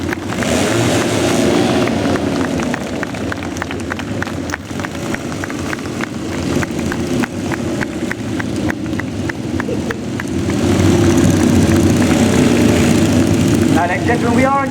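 Royal Signals White Helmets display team motorcycles revving their engines at a steam fair, a loud sustained roar with rhythmic pulsing and a surge near the end, with a crowd and announcer in the background.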